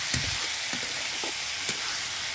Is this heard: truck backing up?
no